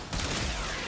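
A single loud burst from the Kuva Chakkhurr in Warframe, a dense broadband blast that starts abruptly and holds for under a second.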